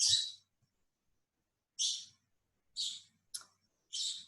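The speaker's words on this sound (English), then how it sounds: "So you don't have to apologize for your bird talking." A pet bird gives a handful of sharp, high chirps spaced a second or so apart, close and clear against near silence.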